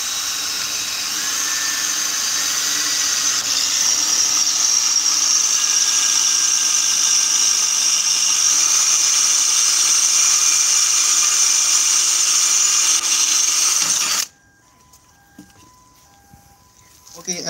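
An INGCO power drill bores 8 mm holes through a 4.54 mm metal plate, giving a steady, loud whine that runs for about fourteen seconds and then stops abruptly, leaving quiet room noise.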